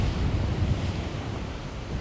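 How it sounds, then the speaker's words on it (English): Strong wind and choppy waves at Chesil Beach roar continuously with steady broadband surf and wind buffeting on the microphone, loud and close, no talking. "It's pretty windy at the moment, choppy conditions."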